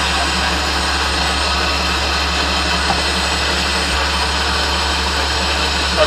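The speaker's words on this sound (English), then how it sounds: "Just start with the turbine engine." A tank's turbine engine runs with a steady, loud whine over a deep, constant low hum, unbroken and close throughout with no talking.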